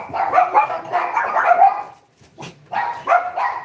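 A dog barks repeatedly in quick bursts, loud and close, with a short pause before another volley of barking.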